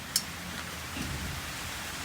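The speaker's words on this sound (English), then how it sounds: "As you can hear outside, it's summer in full swing. Raining here in Adelaide." Summer rain falling outside in Adelaide, heard from indoors as a steady soft hiss of drops, with one sharp click near the start.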